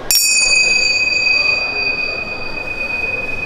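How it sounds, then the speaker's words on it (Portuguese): A bright Tibetan metal bell rings once, its clear ringing tones sustaining and slowly fading over a soft rumbling background. "Esse sino é um sino de abertura de trabalho, é um sino tibetano."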